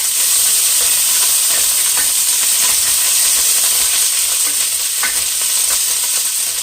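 Onions sautéing in a pan over medium heat give off a loud, constant sizzle and hiss, with faint scraping as the food is stirred, close up and with no talking.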